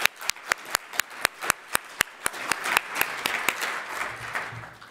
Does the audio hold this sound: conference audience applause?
yes